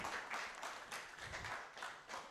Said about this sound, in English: we keep clapping until Pamela is here.